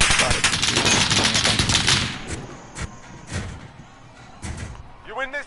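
Rapid bursts of game gunfire crackle through the first couple of seconds, then scattered single shots and thuds follow more sparsely, with voices faintly underneath.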